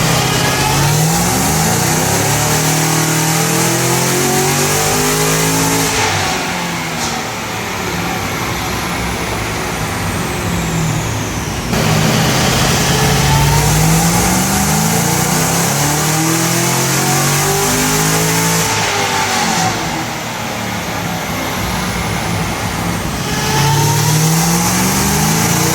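Cadillac CT5-V Blackwing running about 20 psi of boost on methanol injection, its engine roaring loudly in repeated long pulls that rise and drop with gear changes, no voices.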